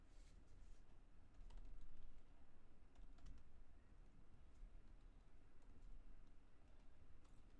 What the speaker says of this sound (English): Type the following code in the next cell.